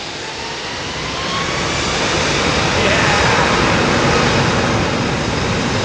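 A big jet airliner powered by GE CF6 engines at London Heathrow Airport gives off a loud, steady roar with a resonant hum. The sound swells over the first seconds and then holds, close and continuous.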